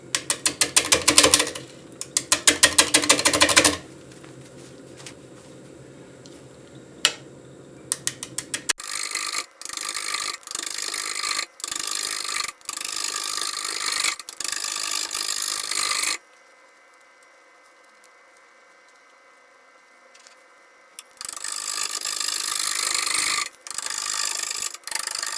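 Gouges cutting a poplar flowerpot on a wood lathe make loud, close, rough rasping passes of chattering cuts, broken by quieter stretches where the cutting stops and only a faint hum remains.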